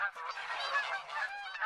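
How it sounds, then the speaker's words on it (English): A milling flock of geese in a field during a goose hunt, a brief burst of many overlapping honks, steady and fairly close. "They're just kind of milling about, really."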